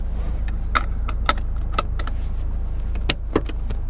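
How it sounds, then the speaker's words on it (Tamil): A car seat belt is pulled across and buckled inside a car before pulling away in traffic, giving a few sharp, close metallic clicks and rattles over a low steady cabin rumble. "ஸோ நான் என்ன பண்ண போகிறேன் அப்படின்னா ஃபஸ்ட்டு சீட் பெல்ட் போட்டுக்கிறேன்"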